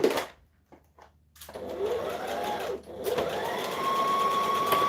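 A sewing machine back stitches along a blouse cuff, its motor running in short close bursts with a brief pause between them, loud and steady with no talking.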